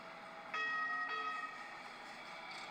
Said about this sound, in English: How cool is that to see a subway from another city?